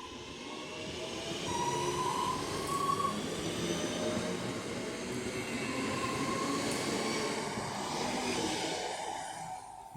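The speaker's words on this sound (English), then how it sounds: "Now getting ready to depart is 323-230, working the 10:15 Northern service to Manchester Piccadilly." A Class 323 Northern electric multiple unit pulls away on the West Coast Main Line at Gatley, a steady rumble with a faint whining tone rising and fading, heard fairly close and alone with no voices.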